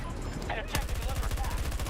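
Rapid automatic gunfire in a shooter video game, a sharp crack followed by a steady rattling burst of shots, loud and close.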